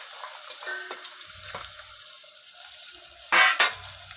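Vegetables for upma go into a hot pan, giving a low sizzle with light stirring and scraping, then a sudden loud burst of frying and clatter near the end. Nobody speaks.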